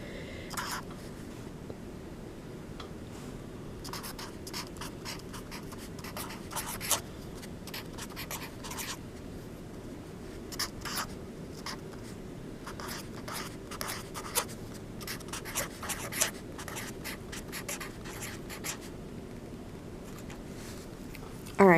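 Pen or pencil writing notes by hand on paper, a soft continuous scratching in short bursts and strokes, close and quiet, with brief pauses between lines.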